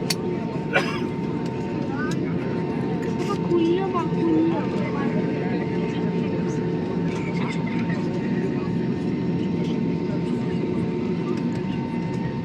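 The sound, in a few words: airplane landing on runway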